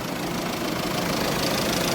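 An MG Hector car engine runs with the bonnet open, giving a steady, close, even rumble with broadband noise and no voices.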